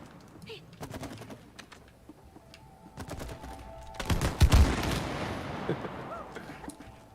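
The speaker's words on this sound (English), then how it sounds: "Can I shoot your goose straight out of the cannon?" Cannon blasts and explosions from a video game, a series of sharp booming shots building to a loud burst near the middle, with game sounds and voices around them.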